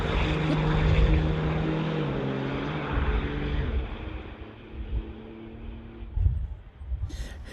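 Diesel drag racing vehicles run the eighth mile at a Canadian diesel shootout during an NHRA Summit ET race. A distant, droning engine roar pulls away and fades, then leaves scattered lower rumbles and crowd-like noise.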